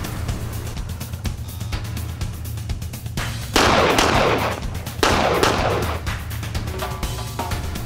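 Gunfire at an electronic shooting target system: rapid series of sharp, loud shots with echoing tails, several bursts in quick succession, fairly near with no talk over them.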